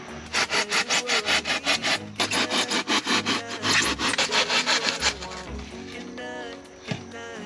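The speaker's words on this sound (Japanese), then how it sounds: "もう木工用のノコギリでガシガシ切っていっちゃってます。" A woodworking handsaw rasps back and forth in fast, regular strokes, loud and close, cutting through attic insulation before slowing and stopping.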